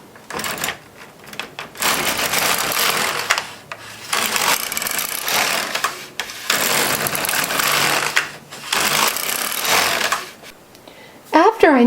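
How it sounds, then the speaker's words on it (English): A knitting machine carriage runs back and forth across the needle bed knitting rows of ribbing, giving repeated loud clattering passes of a few seconds each with brief pauses between, heard up close. "I'm going to knit the number of rows for the ribbing"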